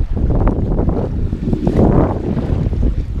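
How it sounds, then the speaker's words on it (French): Wind gusts across a sailboat on the Gambia River, about 8-9 knots, with rushing buffeting noise and water sloshing against the hull, loud and continuous without speech. "Ça fait plaisir d'avoir un peu de vent."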